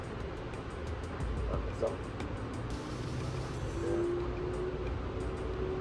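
A steady low rumble of a train rolling along rails fills the space with faint rattles, a muffled interior ride with a voice talking briefly.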